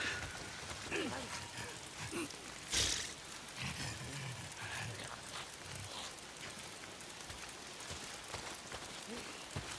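Steady rain in the video game Days Gone patters and hisses across surfaces, with occasional louder splashes and thumps breaking through the continuous wash.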